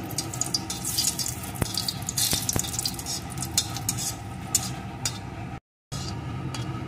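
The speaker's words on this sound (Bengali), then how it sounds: "এখন এর ভিতরে আমি দিয়ে দেবো একটা শুকনো লঙ্কা। লঙ্কাটাকে লাল লাল করে ভেজে নেব।" A dried red chilli fries in hot mustard oil, giving a soft, steady sizzle with light crackles and a few sharp clicks of a utensil against the pan, broken by a brief silent gap.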